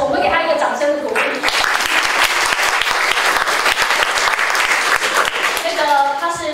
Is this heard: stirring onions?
no